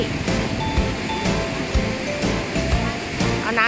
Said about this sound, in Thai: น้ำตกกระเด็นนะคะ แล้วลมพัดมานะ น้ำก็กระเด็นโดน